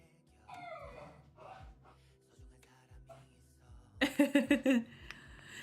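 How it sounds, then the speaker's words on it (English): A miniature red poodle puppy whimpers and yips faintly in the background, then lets out a close rapid series of about five barks, with indoor clatter and a little speech around it. "this is you're hearing my puppy Obi. He is a miniature red poodle"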